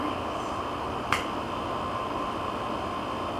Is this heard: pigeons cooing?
no